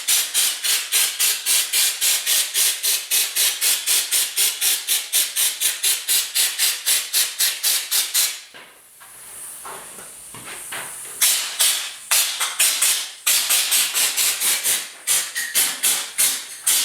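Rapid rhythmic hissing bursts of a paint spray gun on the rear fenders and tailgate of a 1956 Ford pickup, loud and close, interrupted midway by a softer continuous hiss before the quick pulsing resumes.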